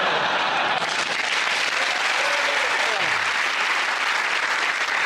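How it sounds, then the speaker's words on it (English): A television comedy panel show's studio audience breaks into steady, sustained applause, dense and even throughout, with a brief voice passing faintly underneath. "Randomly, I say well done and people clap."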